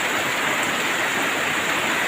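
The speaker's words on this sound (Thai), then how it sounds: "ฝนตกหนักมากครับ" Heavy rain pours through the night at a rural home in Ban Kok Kok village, a dense, steady hiss of downpour with no pauses and no voices.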